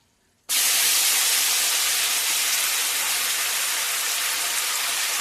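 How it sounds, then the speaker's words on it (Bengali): Marinated chicken hitting hot oil tempered with bay leaves, dried red chillies and cracked cardamom, bursting into a loud, steady, close hiss of sizzling that starts suddenly and holds without letup, no voices. "ফোড়নটা হয়ে গেছে, দিয়ে দেবো ম্যারিনেট করা মাংস"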